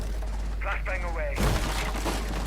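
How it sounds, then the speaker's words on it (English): A flashbang grenade going off in Rainbow Six Siege, one abrupt loud blast that cuts in after a brief rising whistle and leaves a broad ringing wash, with a voice speaking over it. "Flashbang away."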